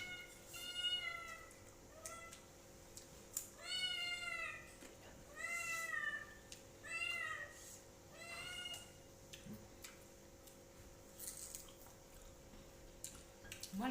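A cat meows repeatedly, about half a dozen drawn-out, fairly close calls spaced a second or two apart, with a faint steady hum and small dripping or clicking noises in the background.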